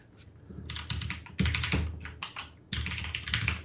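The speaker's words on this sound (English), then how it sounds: "He's like frantically typing over here." Rapid, frantic typing on a computer keyboard, dense bursts of clattering keystrokes with brief pauses, close and fairly loud, with no voices.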